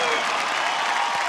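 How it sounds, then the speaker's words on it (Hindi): Studio audience applauding on a televised singing competition stage, a steady wash of clapping that fills the short moment without any audible talk. "दोनों के लिए तालियां"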